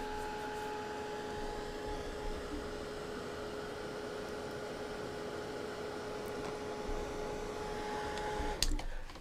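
A hair dryer blows steadily on a freshly painted watercolor leaf, a constant close whirring hum with an airy hiss that runs almost unchanged for several seconds before a short clatter near the end.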